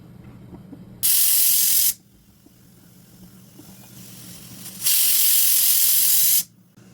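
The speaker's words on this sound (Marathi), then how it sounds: "आता ह्याच्या आपण 2 ते 3 शिट्या करून घेऊया." Pressure cooker with mutton inside releases two loud, sustained whistling bursts of hissing steam, each lasting about a second, separated by a quieter stretch.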